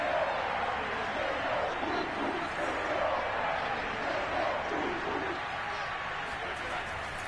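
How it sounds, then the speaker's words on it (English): Football stadium crowd roaring and building before a big third down, a dense continuous wash of many voices with scattered shouts, heard from within the stands with an indistinct voice faintly beneath. "the crowd getting into it as we come up on a big 3rd down"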